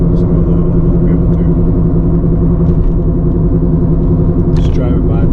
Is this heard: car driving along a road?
yes